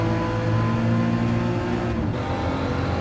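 Porsche 911 Carrera RS (901) in Gran Turismo 7 accelerating at the Nürburgring 24h circuit, a loud, close, continuous engine note with strong harmonics that climbs steadily and dips briefly near the end, with no talking.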